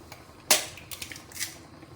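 A sharp crack followed by a few lighter taps and clicks against a pot, close and clear, no talking.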